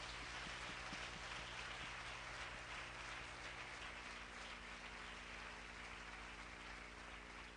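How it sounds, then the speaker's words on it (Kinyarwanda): A church congregation at a conference applauds, a broad steady wash of clapping sustained throughout, distant and fairly quiet under a low hum. "ndagira ngo torero ry'Imana munyemere tubakomera amashyi menshi cyane."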